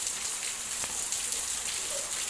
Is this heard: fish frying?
no